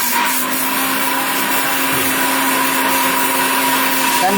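A steel-bodied electric blender runs with a steady, loud motor whine and constant hum, unbroken for the whole stretch.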